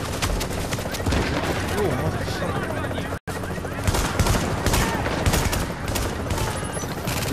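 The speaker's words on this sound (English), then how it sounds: "Get some headshots with a shotgun." Loud, rapid gunfire from a shotgun fight in The Division's Dark Zone keeps going almost nonstop, with one very short break. A player's voice shouts once over the shots.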